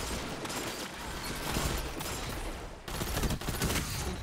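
Dense gunfire in the video game Destiny, a continuous barrage of rapid overlapping shots and blasts that stays loud throughout.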